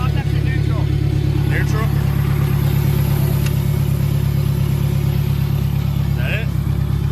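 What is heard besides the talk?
K24 turbo Honda Civic EK engine running after being given gas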